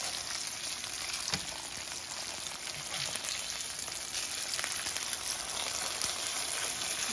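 Beef milanesa frying in oil in a pan, a steady dense sizzle and crackle with occasional sharper pops, close and even throughout, with no talking.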